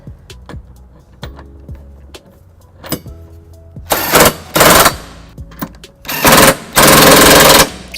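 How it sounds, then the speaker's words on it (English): A cordless impact socket tool with a 19 mm socket runs down trailer hitch bolts on a 2016 Toyota Highlander: light clicks and taps first, then four loud, close, rapid rattling bursts. "Now that I gotten the bolts tightened down with the cordless socket"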